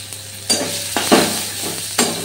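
Onions going into hot oil in a home kitchen pan, with stirring scrapes and a steady sizzle punctuated by a few sharper bursts of frying, close and fairly loud with no talking.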